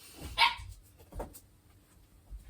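A puppy barks indoors, a sharp nearby yip followed by a second shorter bark, with quiet pauses between, no talking.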